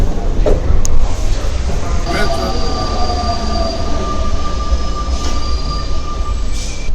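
A subway train rumbles loudly past, metal wheels squealing in long high whines over the heavy rolling roar of the cars.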